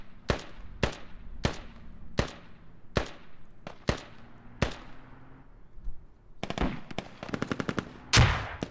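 Gunfire at a river crossing in the video game Squad: a string of sharp single shots at a steady pace, then a rapid automatic burst near the end, echoing around the battlefield.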